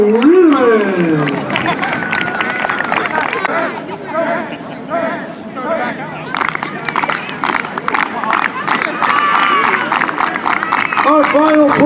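Crowd at a fall senior night football pregame ceremony claps and cheers loudly for a player, steady applause and hubbub filling the space with an announcer's voice over it.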